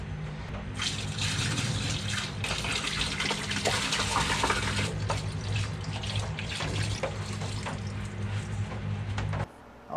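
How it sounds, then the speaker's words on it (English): Simple Green Extreme degreaser gushing steadily into a large batch of water for several seconds, a loud continuous pouring splash that stops abruptly at the end. "dump the 4 gallons of Simple Green Extreme into our 12 gallons of water"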